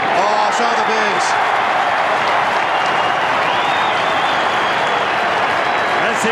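A large stadium crowd roars and cheers continuously after a goal at a 1995 Australian football qualifying final between Carlton and Brisbane, a loud sustained wash of voices and applause with commentary voices talking over it.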